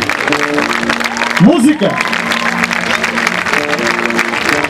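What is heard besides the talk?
audience applause for a young singer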